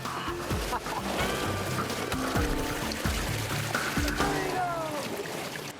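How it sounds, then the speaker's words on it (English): Water rushes and gurgles into a sinking car, a steady pouring wash with sloshing and bubbling throughout, fairly loud and close, with low knocking thuds and faint voices mixed in. "the water rushes in."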